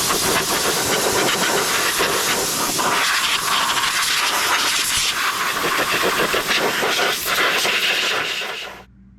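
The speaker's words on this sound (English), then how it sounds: "we should probably blow this out with some air so I don't get a bunch of dirt and dust in the engine" Compressed air blasts across the engine area of a Kubota Kommander Z125S zero-turn mower during its 100-hour service, a loud continuous hiss that holds steady for about eight seconds, then cuts off abruptly.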